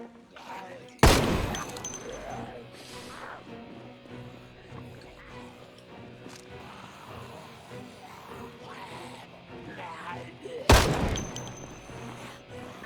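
Shotgun fire in the video game Project Zomboid: two loud, sharp blasts about ten seconds apart, each with a short ringing tail, while people talk quietly in between.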